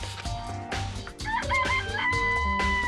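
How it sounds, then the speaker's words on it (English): Chickens in a coop in the Danganronpa video game cluck and a rooster crows repeatedly, loud and close, layered over game background music with no talking. "Remember, there were some chickens in the chicken coop."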